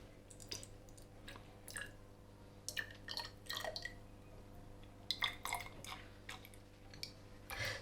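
Melted candle wax is poured into a pot, giving soft irregular drips and wet splashes, quiet and close, in clusters over a faint steady hum, with no one talking.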